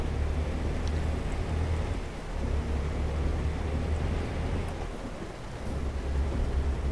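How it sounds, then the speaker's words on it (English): Steady, heavy rain in American Truck Simulator roars continuously with a deep low rumble underneath, loud and unbroken for several seconds. "even though it's raining super hard"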